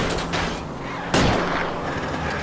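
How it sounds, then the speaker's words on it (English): Gunfire at a car in the video game L.A. Noire, a loud sharp shot landing mid-clip over steady engine and road rumble, with another softer report just before. "I'll try to shoot out his tires."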